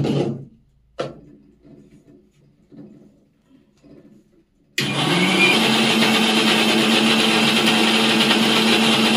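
After a few soft knocks and clinks, a kitchen grinder kicks on and whirs loudly and steadily, blending a semolina bread batter with ghee and baking soda in one continuous motor roar.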